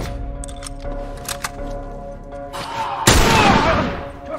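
Gunshots in The Last of Us video game: scattered sharp clicks and thuds, then one loud burst of fire near the end that rings out and decays, heard close and without speech.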